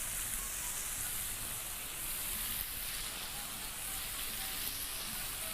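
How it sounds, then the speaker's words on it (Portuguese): Chicken pieces searing in a hot pan, left to brown and caramelize on the bottom, give a steady, dense sizzle and frying hiss that holds without break from start to finish. "tá fazendo esse barulhinho, o barulhinho de que tá grelhando, que tá fritando"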